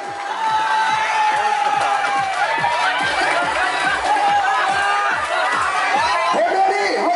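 Wedding guests cheer and chatter loudly for the bride and groom's kiss at a Vietnamese wedding ceremony in Bản Khoang, Chiềng Khoang, a dense steady crowd roar with whoops throughout.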